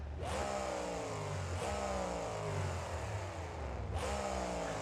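A monster truck engine in BeamNG.drive revs continuously as a loud, steady droning roar with rising pitch sweeps, restarting its climb a few times with no voices present.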